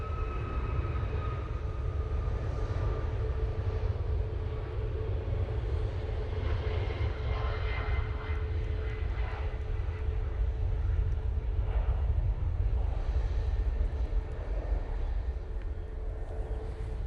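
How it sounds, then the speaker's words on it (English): A Ryanair Boeing 737 Max starts its takeoff roll at Manchester Airport. Its engines give a steady low rumble that carries on and builds slightly, heard from a distance, with faint higher tones above it. "And that Ryanair Max has now started its roll."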